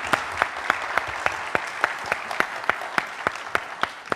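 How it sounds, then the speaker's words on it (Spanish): Rhythmic unison clapping from an audience at a government event, steady evenly spaced claps over a broad wash of applause, loud and sustained throughout. "un aplauso para todos"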